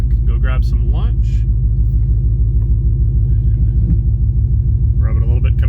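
A car with a custom 4.5-inch cluster build idles with a steady, loud low rumble as it sets off around the block, while someone talks over it.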